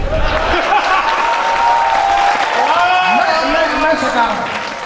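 Audience at a Hindi poetry recital bursts into clapping and some laughter, a loud burst that carries on as a voice keeps talking over it.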